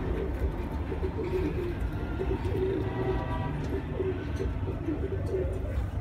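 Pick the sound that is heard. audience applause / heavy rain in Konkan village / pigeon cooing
pigeon cooing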